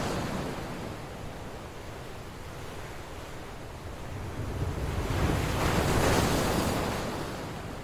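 Ocean waves wash against a rocky shore with steady broadband surf and wind buffeting the microphone, swelling louder as a bigger wave breaks near the end.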